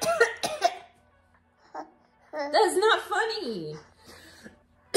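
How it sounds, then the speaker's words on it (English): A person coughs repeatedly after a pomegranate seed went down the wrong way, a few sharp bursts up close, with chuckling and laughter mixed in and a short remark spoken over it. "I was eating a pomegranate seed and like it went down the wrong pipe. So I've been coughing"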